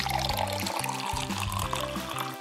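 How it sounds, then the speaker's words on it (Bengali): Drinks carefully poured into a cup, a continuous close trickle and splash of liquid filling the vessel, running steadily without pause. "সাবধানে ড্রিঙ্কস গুলো ঢেলে নি।"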